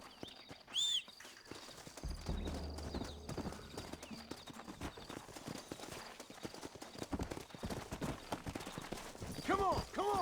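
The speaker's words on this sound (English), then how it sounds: "Looks like Carlos left us some horses." Horses' hooves clip-clopping steadily in the Red Dead Redemption western video game, close and continuous, with a horse whinnying and voices talking over the hoofbeats.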